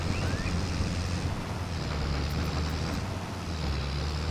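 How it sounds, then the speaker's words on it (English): Water rushes in a farming video game as a steady broadband wash with a low rumble, loud and constant throughout, with no talking. "The water running."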